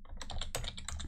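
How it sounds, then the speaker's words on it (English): A PowerShell command being typed on a computer keyboard: a quick, close run of crisp keystrokes clattering in rapid succession for about a second. "So I'm going to type"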